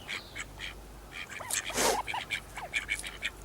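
Several quacks from elderly ducks, around fifteen years old, kept at a backyard chicken flock. The calls come in short bursts close by, over a faint rustling background with no talking.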